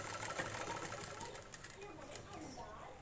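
A sewing machine stitches lehenga latkan trim in a steady, fast whirring rattle that runs continuously at moderate loudness, with a faint voice talking underneath.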